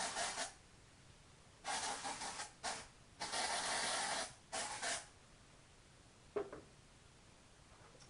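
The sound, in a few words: dry shampoo aerosol spray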